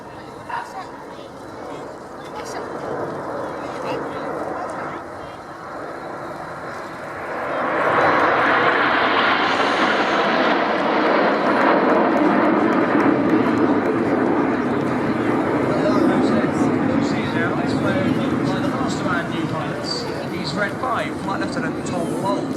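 Red Arrows aerobatic jets pass at the East Fortune airshow, a distant engine rumble swelling into a loud, broad roar that lingers and slowly fades, heard under an announcer talking over a public address system.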